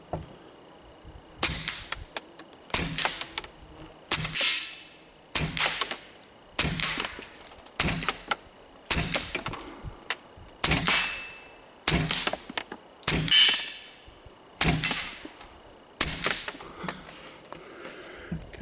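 A suppressed Walther PPQ .22LR pistol fires about a dozen quiet, sharp cracks at a steady, unhurried pace, each shot clipped and followed by a brief metallic ring, with no talking.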